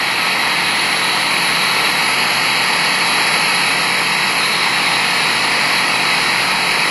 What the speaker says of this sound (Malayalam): സിഗ്നൽ കിട്ടി. ഫ്ലൈറ്റ് ഇച്ചിരി കൂടെ പൊക്കാണ്.